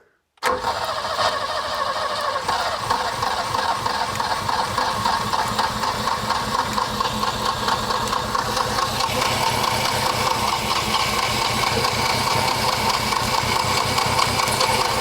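A barn-find BMW forgotten for 30 years cranks on its starter for a long, steady rhythmic stretch, loud and close, struggling to catch without settling into a clean idle.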